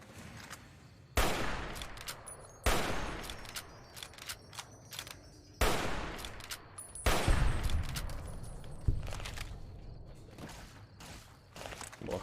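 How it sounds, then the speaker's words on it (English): Hunting rifle shots in a video game, four or five loud, sharp reports spaced a second or more apart, each trailing off into a decaying echo over quieter mechanical clicks and rattles. "Hunting rifle."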